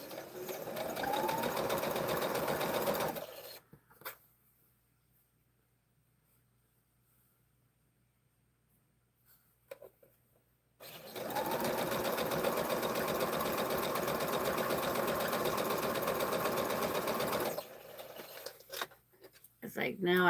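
A sewing machine runs in two long, steady bursts while stitching small triangle pieces of a quilt block, a loud continuous motor whir broken by a quiet pause in the middle.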